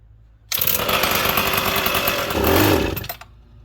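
A McCulloch PM700 chainsaw being run after fitting its bar and chain, bursting into a loud, close, buzzing roar that swells briefly as it revs, then cuts out after about two and a half seconds.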